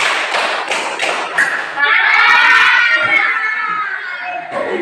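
Schoolchildren in a classroom clap in counted patterns, a few crisp group claps in rhythm at first, then giving way to children's voices chanting together.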